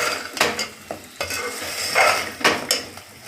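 Drumstick pods (moringa) frying in oil, with a steady sizzle under several loud, irregular scraping stirs of a utensil against the pan, close and without talk.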